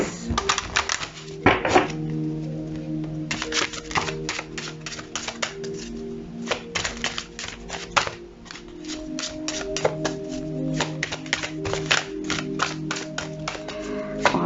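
Rapid clicking and snapping of cards being handled, with dense bursts of taps and a few louder thumps, fairly close and continuous with no talking.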